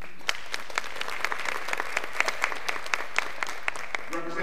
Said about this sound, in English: they'll stand and be honored tonight with a round of applause